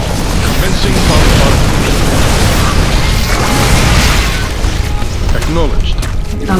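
Explosions and weapons fire in the StarCraft 2 video game, a dense, continuous roar of blasts and booms with mechanical clatter, loud throughout, with game voices over the action.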